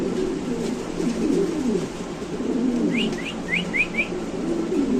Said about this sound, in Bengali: দেখেন কবুতর ডাক দেখেন মাসাল্লাহ এত সুন্দর কবুতরটা